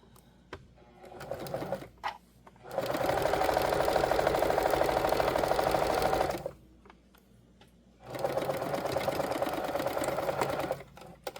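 Sewing machine running in two sustained bursts as it stitches a seam across a small drawstring bag with lining, each run lasting several seconds with quieter handling noise between.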